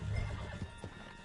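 A horse neighs faintly in Red Dead Redemption 2, a short low whinny heard at a distance beneath quiet game ambience.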